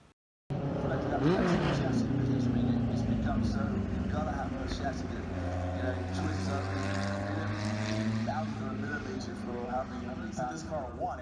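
A loud vintage race car engine roars and revs close by at a speed festival, pitch sliding down then holding steady in a throaty drone, with voices faintly underneath.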